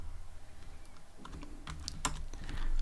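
Keys clatter on a computer keyboard during Python coding, with a quick run of close, crisp taps and one sharper keystroke near the end.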